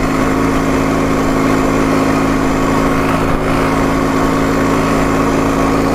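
A motorcycle under repair for poor pulling power, revving loudly at partial throttle in fourth gear with a constant, steady drone close by.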